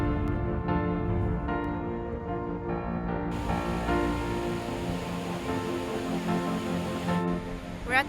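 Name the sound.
waterfall at Wahclella Falls, Columbia River Gorge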